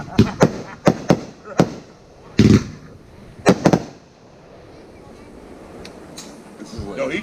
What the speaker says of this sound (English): I think your mortars can overtake Chris's stuff once in a while